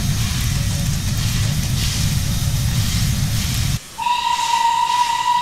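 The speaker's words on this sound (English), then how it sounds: "This one also has different whistles." A Terrier steam locomotive vents a loud, steady steam hiss, which cuts off briefly before a sharp, clear whistle sounds close by.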